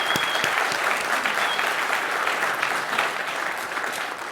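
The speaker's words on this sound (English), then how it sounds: "Please join me in a round of applause." Conference keynote audience applauding, dense steady clapping from a large crowd that fills the room and fades slightly toward the end.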